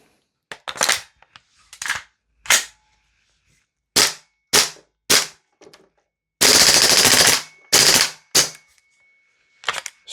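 An airsoft gun, a DE Ghetto Blaster or Salvo MCX, fires BBs in sharp loud bursts: single shots and short rapid strings separated by silence, plus one longer sustained burst, with no talk.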